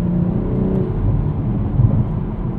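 A 2023 Toyota Supra with a 3-liter turbo inline-6 and six-speed manual gives a close, steady low exhaust rumble and burble while cruising, with no voices.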